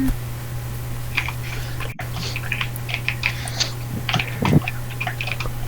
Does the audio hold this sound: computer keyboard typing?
yes